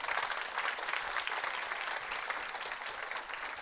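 Audience applause at the Nordic Female Investor Meetup, a dense, steady wash of many hands clapping that holds throughout at even loudness.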